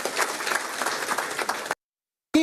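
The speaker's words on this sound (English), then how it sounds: "I think we should clap for Namibia in that respect" Audience applauding Namibia at an election event, a dense, steady wash of clapping that stops abruptly, followed by a short burst of another sound after a silent gap.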